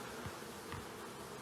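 Escaped honey bees circle a honey room after a chimney removal, filling the space with a dense, even buzzing that holds steady and close for the whole moment.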